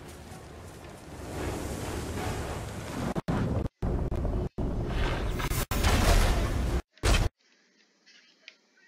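Wind howls in the video game Shadow of War, a loud, roaring gusty rush chopped by several abrupt cuts to silence, ending in a faint, quieter stretch.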